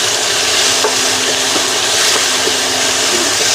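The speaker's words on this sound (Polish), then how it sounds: "Smażam cebulkę troszkę." Steady broadband sizzle of onion frying in a pan, with occasional light clinks and scrapes of stirring, close and continuous with no talking.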